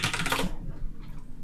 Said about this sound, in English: now what should happen is that I can type something here